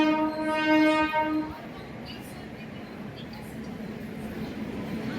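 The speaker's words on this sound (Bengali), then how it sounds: "এই একটা ট্রেন ঢুকছে আবার" A train pulling into a station sounds a loud sustained horn for about a second and a half, then a steady rumble of wheels and carriages rolls on beneath faint background chatter.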